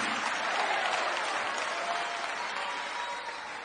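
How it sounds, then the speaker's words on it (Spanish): Congregation applauding at an evangelical church service, a thick continuous roar of clapping that stays strong and then eases slightly toward the end. "Denle un aplauso al Señor Jesucristo."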